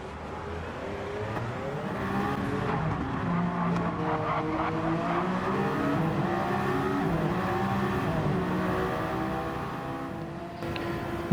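A hypercar in a racing video game spins out after touching the inside and outside curbs at a chicane at Spa, giving a loud continuous engine drone with shifting revs and tire scrub, no talking.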